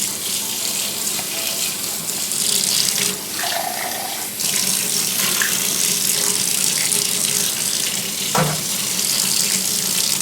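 A kitchen tap runs steadily for about ten seconds, pouring water over pennies in a strainer to rinse off baking soda, with a continuous close splashing hiss and brief shifts where the flow is interrupted.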